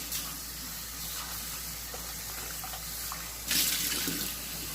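Tap water streams steadily into a sink while food is rinsed in it, a continuous close hiss that swells briefly louder near the end, with no voice.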